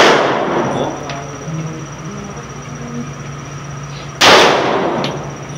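Two sharp, loud gunshots ring out at an indoor sports shooting range in Pasay City, one at the very start and another about four seconds later, each followed by a ringing decay.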